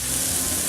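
Cactus pads (nopales) hitting a hot oiled pan give off a steady, close sizzle that stays fairly loud through the whole short burst.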